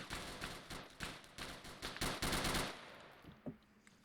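Sustained gunfire in the military video game Arma, rapid repeated shots in a fast rattling rhythm that thins into a few scattered reports.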